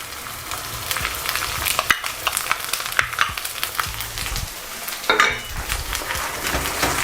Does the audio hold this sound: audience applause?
no